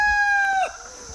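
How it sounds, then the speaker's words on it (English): A short, strained crow from a young rooster rises and breaks off, thin and unpolished, followed by quiet background. "my young roosters are starting to get their voice"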